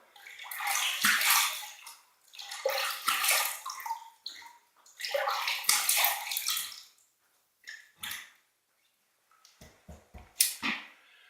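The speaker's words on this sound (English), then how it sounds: "Okay, we're going to rinse." Water splashing during a classic wet shave as a razor and face are rinsed, several close bursts of running and splashing water, then scattered drips and taps.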